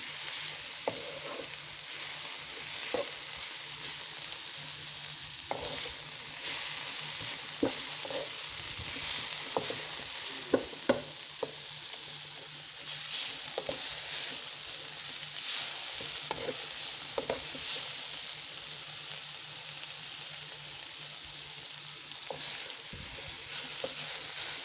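Onions and cabbage stir-frying in a pan for Jamaican fried cabbage, a steady bright sizzle running throughout with occasional spatula scrapes and knocks, close and even, no speech.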